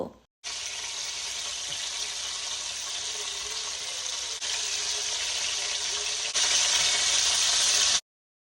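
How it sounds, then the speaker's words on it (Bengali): Prawns frying in oil in a pot over medium heat, a steady broad sizzle that starts abruptly, holds even and grows slightly louder in two steps before cutting off. "মিডিয়াম আঁচে তেলগুলো গরম হয়ে গেলে চিংড়িগুলোকে এপিট ওপিট করে হালকা করে ভেজে নেব।"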